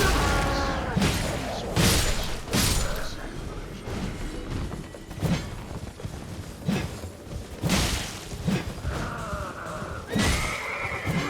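Horse neighing and hoofbeats in the Elden Ring video game, with repeated loud whinnies over a continuous clatter of hooves and heavy thuds, close and busy throughout.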